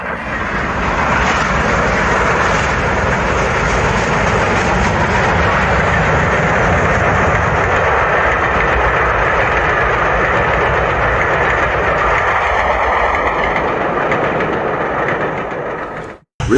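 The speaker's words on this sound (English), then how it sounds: "Stanier Jubilee Colloper on a down express with safety valves blowing off" A Stanier Jubilee steam locomotive hauls a down express with its safety valves blowing off. A loud, steady roar of steam and rolling stock runs without a break for about sixteen seconds, then cuts off abruptly at the end.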